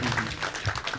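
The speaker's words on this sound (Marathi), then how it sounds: "जोरदार टाळ्या त्यांच्यासाठी." Applause from a Marathi music event audience for a group performing Hindi songs, a steady dense clapping wash throughout, fairly close and moderately loud.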